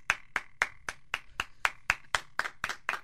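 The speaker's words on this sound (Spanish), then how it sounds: "un aplauso para esas damas" A single person claps about a dozen times in an even, brisk rhythm, each clap sharp and close.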